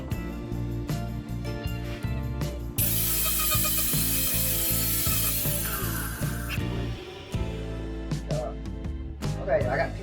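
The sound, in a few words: grinding down screws on a party bus body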